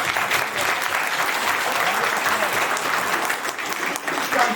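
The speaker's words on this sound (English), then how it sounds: "Round of applause." An audience at a college science day quiz applauds a correct answer, a continuous, even wash of many hands clapping at moderate distance, holding steady throughout.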